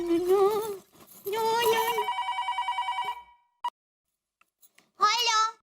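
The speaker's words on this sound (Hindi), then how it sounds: "किसको फोन कर रहे हैं? दया को।" A telephone rings with a repeated electronic trill, a regular pulsing burst lasting about a second, set between a child's and adults' voices in an indoor domestic scene.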